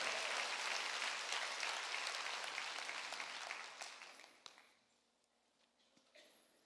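A church congregation applauding during a sermon, a broad wash of clapping that holds steady and then fades away into quiet over the last couple of seconds.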